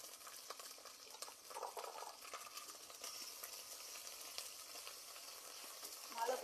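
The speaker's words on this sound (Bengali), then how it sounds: "ভালো করে নাড়িয়ে কষে নিচ্ছি" Ginger paste and raw turmeric paste fry and get stirred in a pan, giving a soft continuous sizzle with faint scraping, fairly quiet throughout.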